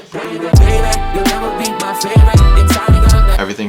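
A dense electronic remix track for a remix contest, mastered through a Maximus limiter, pounds loud and compressed with heavy low-end hits and bright sustained synths throughout.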